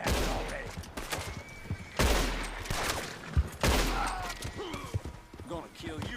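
Shotgun fire in the video game Red Dead Redemption 2 sounds as about three loud, sharp blasts a second or two apart, with someone talking between and over them.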